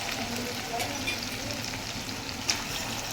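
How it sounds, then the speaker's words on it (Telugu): Eggs fry in oil with softened tomatoes, giving a steady, close hiss and sizzle with a brief louder crackle near the end. "ఎగ్స్ అన్నీ కూడా ఇలా మగ్గాలి కొంచెం ఆయిల్లో"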